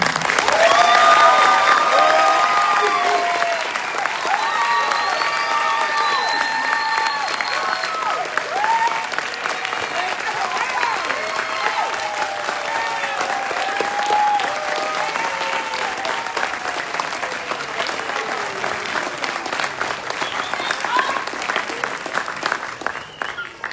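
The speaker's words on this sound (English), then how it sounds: "please join me in a round of applause for the Army's newest drill sergeant" At a graduation ceremony for drill sergeants, a large crowd applauds steadily and loudly for over twenty seconds, with voices and scattered cheers mixed into the clapping.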